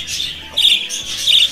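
Parrots and other birds in an aviary give sharp, rapid squawks and chirps in three close bursts, loud and near, with no talk.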